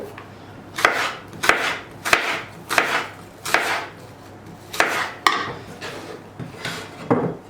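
A knife slices apples against a board in repeated crisp chops, about one every half second, close and clear with no talking.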